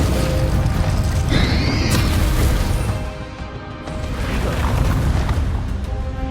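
Bombarda explosion spell cast during a castle battle in Hogwarts Legacy, heard as loud, heavy booming blasts with crashing debris and a rumbling tail, briefly easing before the roar swells again.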